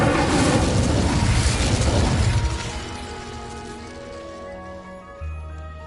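Incendio fire spell cast in Hogwarts Legacy, a loud fiery burst that roars for about two seconds, then fades into a lingering ringing tail with a soft thump near the end.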